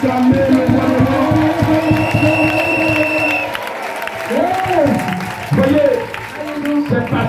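Church congregation at an Easter service applauding and cheering loudly, a burst of clapping and crowd noise mixed with a voice talking and exclaiming over it.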